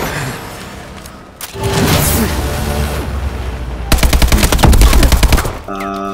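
Gunfire in the shooter game Advanced Warfare: scattered shots and booms, then a fast loud burst of automatic fire rattling for over a second, close and dense, followed by electronic game tones.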